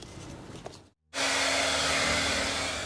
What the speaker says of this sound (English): Omar is now removing his old grip tape using hairdryer